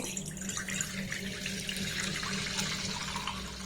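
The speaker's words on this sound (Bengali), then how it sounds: "এবার এই দুধটাকে আমি এই কড়ার মধ্যে দিয়ে দেব" Milk pours into a pan (kadai) for making sour curd: a steady, close liquid stream with splashy, bubbling texture that runs continuously at moderate loudness, with no voices.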